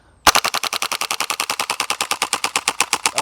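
A WELLPRO PPK20 (WE06) airsoft gas blowback rifle fires full auto: one sharp opening shot, then a steady rapid string of about two dozen crisp, close, loud cracks that slow slightly toward the end.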